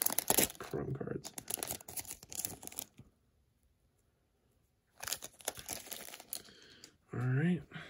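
A foil trading card pack wrapper for 2019 Topps Update Series Chrome cards crinkles and tears open in close, loud bursts, with a quiet pause in the middle before more crinkling, then a voice speaks at the end.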